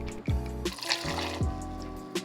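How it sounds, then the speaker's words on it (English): Bourbon or whiskey is poured into a shot glass, a short close trickle with a few gurgling glugs that fills the space for about two seconds, with no talking. "grab your bourbon or whiskey and pour in 1 ounce"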